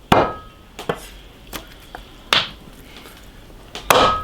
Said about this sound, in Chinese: 哎呀，把它剁成小坨坨。